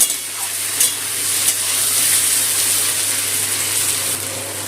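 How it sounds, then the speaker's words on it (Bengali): Chopped onion frying with potatoes in a pan, a close, steady sizzle and hiss running throughout with a couple of soft stirring knocks. "পেঁয়াজটা একটু লাল করে ভেজে নিচ্ছি আলুর সাথে।"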